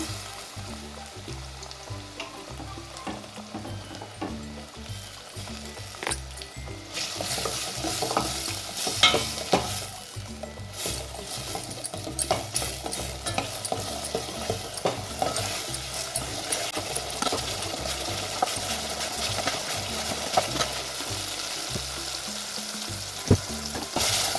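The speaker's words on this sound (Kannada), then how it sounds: "ಜಸ್ಟ್ ಈ ಥರ ಫ್ರೈ ಆದಮೇಲೆ ಇವಾಗ ಕಟ್ ಮಾಡಿರೋಂಥ ಟೊಮೊಟೊನ ಸೇರಿಸ್ತಾ ಇದ್ದೀನಿ. ಇದನ್ನು ಸಹ ಸಾಫ್ಟ್ ಆಗೋವರೆಗೂ ಫ್ರೈ ಮಾಡ್ಕೋಬೇಕು." Chopped tomatoes frying in a pan for bottle gourd sambar, a continuous close sizzle with frequent scraping and stirring clatter of a spatula, steady and busy throughout with no talking.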